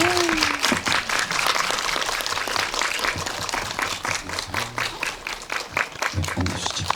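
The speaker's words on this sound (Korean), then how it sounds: "박수 한번 주세요." A crowd claps warmly at an indie film talk event in Korea as the director and actors are welcomed. The applause is loud and sustained, with individual claps standing out and faint voices underneath.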